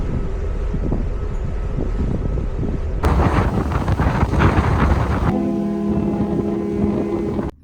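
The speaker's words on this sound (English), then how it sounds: "I'm on my second ferry." Steady, loud wind buffeting and low engine rumble aboard a ferry, continuous throughout with a shift in texture partway, no voices.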